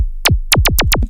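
A dry, unprocessed laser synth patch from Polychrome fires five sharp downward-sweeping zaps, each with a bright high transient, one alone and then four in quick even succession.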